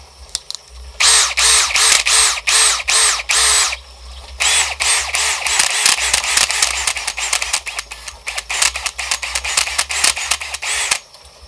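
An AEG BSB18BL cordless drill set to screw mode whirs in a rapid series of short, loud trigger pulses, with a brief break before the stuttering bursts resume close to the microphone.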